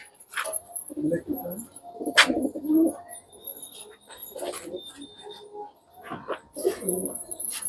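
Soft, low pigeon coos in Jaipur repeat in short bursts with brief pauses, close by, mixed with faint chirps and some rustling.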